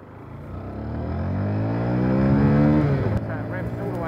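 A Honda CBF 125 motorcycle engine revs up, its pitch climbing steadily for about three seconds before easing off, loud and close.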